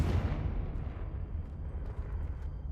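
A fire spell explosion in the video game Hogwarts Legacy, a low rumbling blast that starts strong and tails off into a dull, lingering roar.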